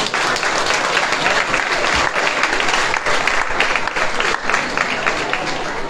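A dense, steady burst of audience applause at an anniversary celebration held at a marina port, many hands clapping continuously at fairly close range, with a faint murmur of voices underneath.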